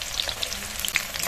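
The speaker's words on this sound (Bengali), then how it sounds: "গরম তেলেই প্রথমে পেঁয়াজ কুচি দিয়ে দেবো" Chopped onion with green chilli fries in hot mustard oil in a karahi, a continuous soft sizzle dotted with small pops and crackles, no talk over it.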